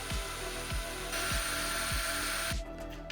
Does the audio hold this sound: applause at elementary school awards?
no